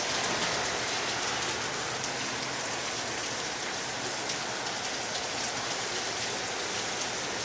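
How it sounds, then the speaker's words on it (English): Heavy rain pours down outside at night, a continuous close rush of drops striking the ground and nearby surfaces, steady throughout with no voices. "That rain's getting on me."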